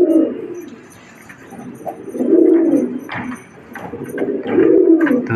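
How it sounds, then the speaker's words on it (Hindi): Agitated domestic pigeons coo loudly and close by, with three drawn-out, throaty rolling calls separated by brief pauses. "कितने गुस्से में कबूतर है।"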